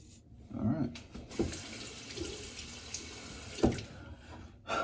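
Cold water runs from a bathroom tap into a sink during post-shave cleanup, a steady broadband rush with splashes and brief knocks, fairly close and moderately loud throughout.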